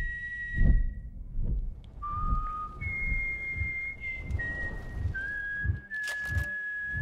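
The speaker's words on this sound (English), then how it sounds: "Whistling America the Beautiful like this." A person whistles America the Beautiful slowly, holding long sustained notes that step between pitches, with soft thumps and shuffling noises underneath.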